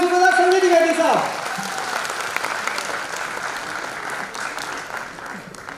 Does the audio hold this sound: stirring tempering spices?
no